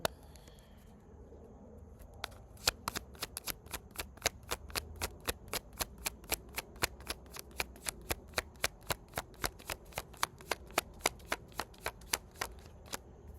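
Tarot cards being riffle-shuffled over and over, a quick run of sharp crisp flicks in a steady rhythm, close up with no talking.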